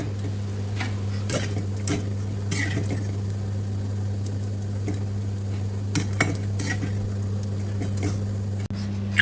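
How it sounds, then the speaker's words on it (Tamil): Fried soya meat for vegetable fried rice stirred in a pan, with a spoon scraping and clinking against the metal in scattered close knocks over a steady low hum. "இனி நாங்கள் இதை கிளறி இறக்கி கொள்வோம்"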